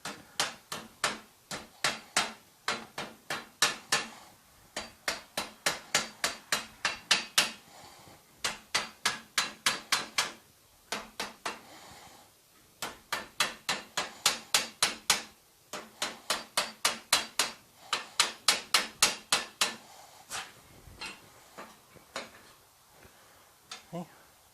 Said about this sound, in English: Now I can take the hammer, try to hold this as steady as I can.